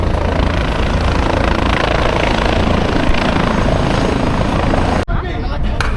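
Tour helicopter flying over New York, a steady loud rotor drone that fills most of the stretch before cutting off abruptly near the end, with street noise and voices mixed underneath.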